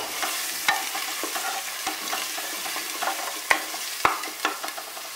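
Mutton with turmeric being stirred in a frying pan for kasha mangsho, a soft sizzle under repeated scraping strokes and a few sharper clunks of the spoon against the pan, no voices.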